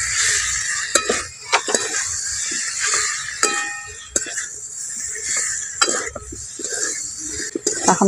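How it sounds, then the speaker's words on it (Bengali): Fried elephant foot yam being stirred into cooked spice paste with turmeric in a pan, with repeated clinks and scrapes of a utensil against the pan over a soft background sizzle, close and moderately loud. "এখন মশলার সঙ্গে ওলটা ভালো করে মিশিয়ে নিয়েছি দেখুন"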